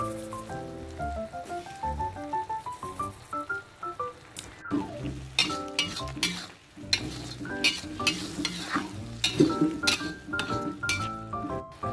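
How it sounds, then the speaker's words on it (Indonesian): A spoon stirs spicy shredded chicken with basil in a pan, scraping and clinking against the metal over a soft sizzle in an uneven, close rhythm. Light background music plays faintly throughout. "masukin sekitar setengah sendok teh lada bubuk, lalu kita aduk rata"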